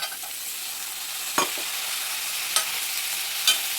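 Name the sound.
stirring food in a frying pan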